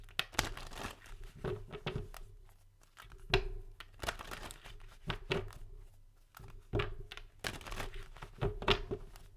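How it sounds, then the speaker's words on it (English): Quick papery riffles and crisp snaps of cards being shuffled, repeated in several bursts with short pauses, close and moderately quiet. "Let me shuffle one more time."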